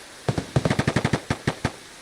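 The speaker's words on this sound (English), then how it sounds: "All this gunfire is definitely going to attract other players." Gunfire in Escape from Tarkov near a vehicle extract: a rapid, uneven string of a dozen or so sharp shots in quick bursts, close and loud, with no talk.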